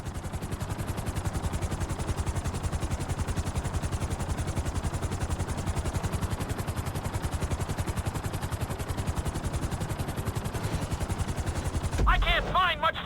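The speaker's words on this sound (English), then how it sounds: "Bring the helicopter down gently onto the helipad." Helicopter in GTA 5 descending onto a helipad, a rapid steady rotor thump with engine drone throughout, ending in a brief shift of tone and sharper mechanical sound near the end.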